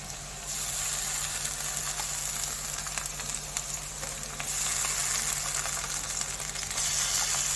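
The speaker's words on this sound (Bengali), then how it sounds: "পেঁয়াজটা ভাজা হোক আদা রসুন বাটাটা দিয়ে দিচ্ছি" Onion fries with ginger-garlic paste in hot oil for a mustard chicken dish, giving a continuous loud sizzle that swells after a few seconds and holds steady, with no talking.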